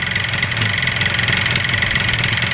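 A 1977 Yamaha RD400 motorcycle engine idles steadily and close up on a bitterly cold day, giving a continuous mechanical drone with a slight knocking pulse and no speech.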